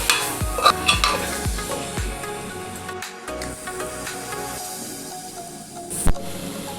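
Masala with chilli powder for a coconut milk mutton gravy being stirred in a pan, several sharp spoon scrapes up close over a bubbling sizzle, then a quieter stretch and one more knock.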